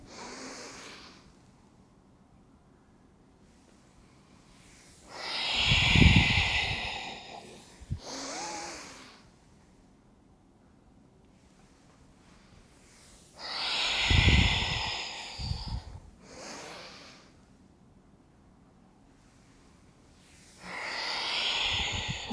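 Deep breathing during a yoga stretch: three slow, loud breaths, close up and separated by quiet pauses, each with a rushing inhale or exhale.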